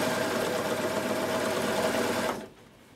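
A Bernette b62 coverstitch machine runs in one steady, close burst of fast mechanical stitching for over two seconds, then stops abruptly and leaves near-silence.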